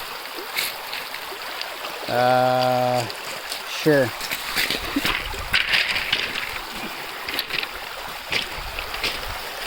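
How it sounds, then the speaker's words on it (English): Rainwater runs off the shoreline of Isle Royale after heavy rain, a steady rushing flow throughout. A short tonal call and a person's brief speech sit over the water. "that tells you how much water is just running out of the island right now from all the rain we've gotten"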